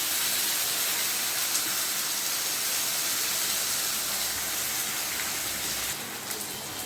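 Ground spice paste hits frying taro pieces in a hot pan, a dense, loud and continuous hiss of sizzling oil that stays steady throughout and eases slightly near the end.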